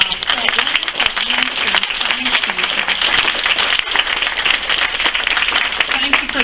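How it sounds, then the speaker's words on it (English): A crowd at a ladies' evening meeting claps in a dense, continuous round of applause, fairly loud and close, with voices talking through it. "Let's give them a round of applause."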